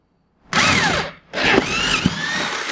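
A power drill bores a hole through a broken computer desk during a repair, with two loud close bursts of whining motor noise separated by a short pause, the second run longer with a brief squeal.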